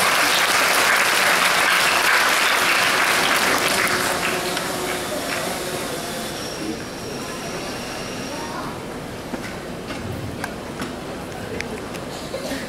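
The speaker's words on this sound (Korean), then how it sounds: "큰 박수 한번 부탁드리겠습니다." Applause from an audience at a debate final on artificial intelligence rises as dense, loud clapping, then thins and fades after several seconds into scattered claps and a quieter room.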